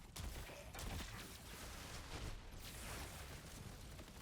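Shotgun fire from Borderlands 4 comes as a dense, continuous roar of blasts and crackling game noise, loud and unbroken for several seconds.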